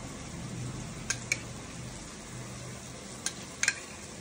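Yogurt with garam masala, red chili and coriander powder is stirred in a bowl for a jackfruit curry, a faint soft scraping with a few light spoon clicks against the side over low background hum.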